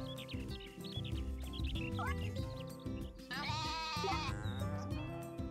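A video-game goat on a farm in Story of Seasons: A Wonderful Life gives several short, bright bleats over a looping cheerful music track, with a chirpy game sound effect near the end.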